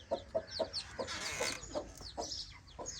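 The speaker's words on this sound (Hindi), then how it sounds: "मुर्गी के बच्चों को भी बाहर निकालना चाहिए हमें" Hens and their chicks in a village in Pakistan make soft, rhythmic clucks about every quarter second, with thin high chick peeps between them, close by and quiet.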